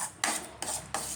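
Thick mango paste being stirred and scraped in a pan for a mango pudding, three steady rasping strokes close up with short pauses between, no voices.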